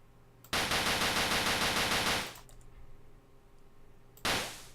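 Automatic gunfire from the video game X Operations: a loud, rapid burst lasting about two seconds, a brief quieter gap, then another loud burst starting near the end.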